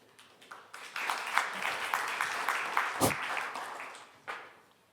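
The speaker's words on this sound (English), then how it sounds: "Big applause." Audience applause at a startup pitch event, a dense wash of many hands clapping that swells quickly, holds steady for a few seconds, then thins out with a brief late burst.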